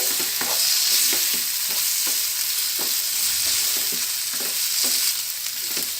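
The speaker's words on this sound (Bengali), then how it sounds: "সব কিছু মিলিয়ে ভালো করে নেড়ে মিশিয়ে নেবেন।" Filling for Bengali potato chops being stirred and mixed in a pan, with a spatula scraping in a steady rhythm over a continuous close sizzle of frying, no voices.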